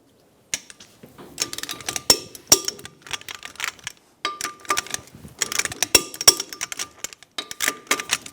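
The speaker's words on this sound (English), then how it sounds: "Snug the nuts down." Lug nuts snugged down on a wheel of a 2000-2007 Ford Focus 2.0L, heard as close, clattering ratchet clicks and metallic rattles in two bursts separated by a brief pause.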